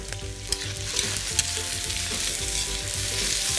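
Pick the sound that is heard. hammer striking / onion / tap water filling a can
onion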